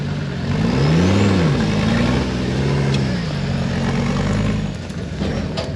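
Rock crawler with a 124-inch wheelbase and a 14-bolt axle working over rainforest rock, its engine droning loud and close with rising and falling revs, while people talk over it.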